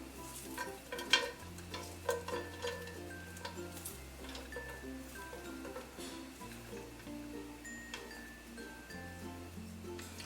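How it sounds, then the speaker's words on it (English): Onion cooks in a pan until soft and translucent, a quiet steady sizzle with occasional clinks and scrapes of stirring near the start, while soft background music plays throughout. "I just want to make my onion soft and translucent before I add my diced tomatoes"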